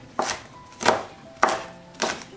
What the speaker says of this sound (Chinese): 最后来准备一小把的长豆角，给它切成丁